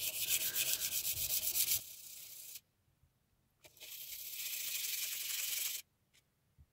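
A knife-axe blade being sharpened on sandpaper, with close rhythmic abrasive rubbing strokes in two long bursts separated by a quiet pause and a few small taps.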